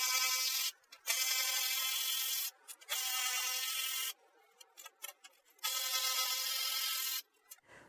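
A power tool whirs on and off in several bursts of high buzzing, loosening 13 mm fasteners on a Jaguar air shock, close and fairly loud with brief silent gaps between runs.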